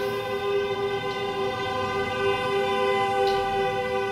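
A car horn sounds outside, held as one long steady blare through the whole stretch with no talk over it.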